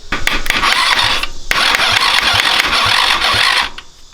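A cheap Batman 200cc go-kart engine cranks and catches, running loud and rough with a steady mechanical clatter for several seconds before cutting off abruptly near the end.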